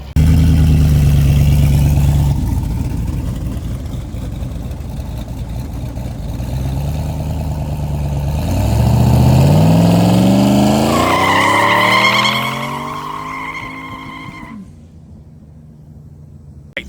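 A drag car idles with a rough, loud low rumble, then launches on the foot brake without a trans brake, the engine note climbing steeply through the revs before cutting off abruptly near the end.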